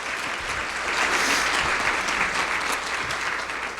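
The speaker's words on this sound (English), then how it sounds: "So let's give Samaritan a round of applause." An audience at a conference on aging in the Mid-Willamette Valley gives a sustained round of applause, dense and steady from start to finish, filling the room with close clapping.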